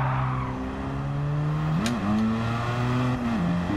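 A Mazda RX-7 with a rotary Wankel engine revs steadily with a buzzing, smooth drone, pitch rising and dipping a couple of times, loud and close without speech.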